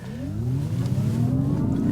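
A Mazda MX-30 EV accelerates with a smooth rising whine that climbs steadily in pitch, loud and continuous, with no talking.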